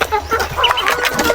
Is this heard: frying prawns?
no